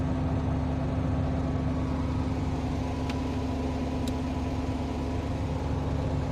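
A farm truck's engine runs steadily nearby at a soy silage harvest, a continuous low rumble with no clear acceleration and no talk.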